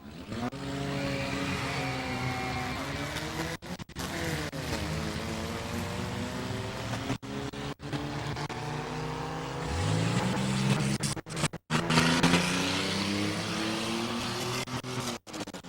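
Race cars starting a FASCAR race at New Smyrna, several loud roaring engines revving and rising in pitch as the cars accelerate away, with one engine note climbing sharply near the end.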